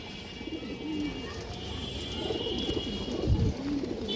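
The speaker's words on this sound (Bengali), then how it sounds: "খুবই সুন্দর একটা কবুতর" A female pigeon coos softly a few times, low and throaty, against a faint steady background hum.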